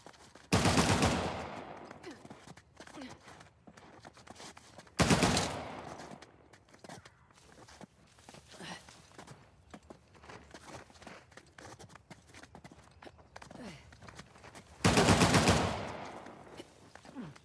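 Three heavy bursts of gunfire in Uncharted: The Lost Legacy, spaced several seconds apart, loud against a quieter background of shuffling movement and faint scattered noises.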